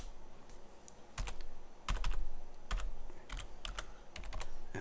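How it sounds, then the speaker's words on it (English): Keystrokes on a computer keyboard as a username is typed at an Ubuntu 6.06 login screen, bursts of clicky taps with short pauses, close and moderately loud, no talking. "And you type in your username here,"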